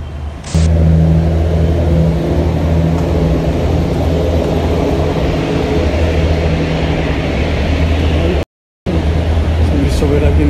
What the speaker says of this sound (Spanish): Esta es una carretera, entonces todo el tiempo se ve escuchar el sonido de los camiones.